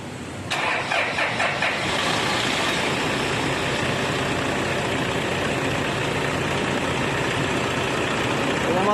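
A Toyota Innova engine, after EGR cleaning, starts and then settles into a steady, continuous idle at close range, rumbling evenly with no voices.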